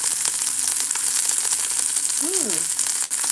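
A5 Wagyu steak sizzling in a pan, a dense, steady hiss of frying fat throughout, close and fairly loud, with a brief voiced murmur near the end.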